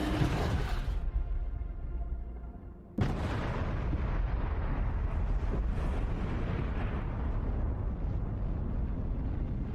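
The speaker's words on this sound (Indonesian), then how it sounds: "It is an atomic bomb." Little Boy atomic bomb detonating over Hiroshima, a sudden massive blast that becomes a long, loud, continuous roaring rumble, preceded by a fading dull rush.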